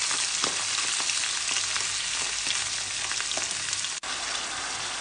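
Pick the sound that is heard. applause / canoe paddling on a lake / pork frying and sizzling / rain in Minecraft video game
pork frying and sizzling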